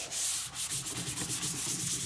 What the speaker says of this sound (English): I'm going to go ahead and sand this a little bit more crisscross and prep it for regular filler